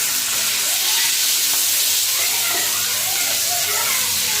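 Green chilies dropped into hot oil already tempered with panch phoron, a loud hissing sizzle that fills the whole stretch, close and continuous with faint scraping underneath.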